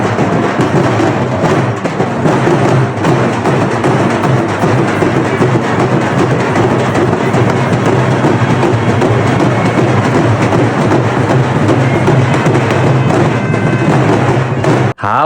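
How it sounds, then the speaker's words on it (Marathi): Hataphada noise fills a village fair procession carrying the goddess's offering plate, a dense, loud, continuous wall of pounding thuds and crowd din that holds steady for about fifteen seconds before cutting off abruptly. "हाताफड्याचा आवाज."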